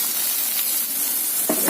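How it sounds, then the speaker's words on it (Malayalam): Coconut pieces frying in melted ghee give a dense, continuous sizzle and hiss, fairly close, with a short stirring scrape near the end and no voices. "തേങ്ങ കൊത്തായിട്ടെടുത്തിട്ട് നെയ്യിൽ വറുത്തിട്ട് മാവിലിടാം"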